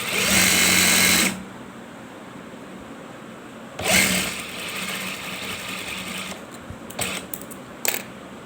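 Bursts of a sewing machine stitching the first seam of a ladies' belt shalwar: a loud, fast whirring run, a shorter run, then a few quick short stitches, all close and without talk.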